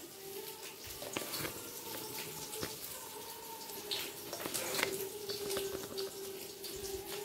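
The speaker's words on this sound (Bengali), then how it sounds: "ডিমটাকে একটু ভেজে নিচ্ছি" An egg frying in a pan for egg posto gives off a faint, steady sizzle with scattered crackles and pops, close by and without any talking.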